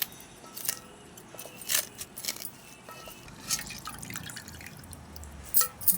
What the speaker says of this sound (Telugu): ఇట్లా కొంచెం గట్టిగా నీళ్ళు పిండేసుకొని దాంట్లో వేసేసుకోవాలి.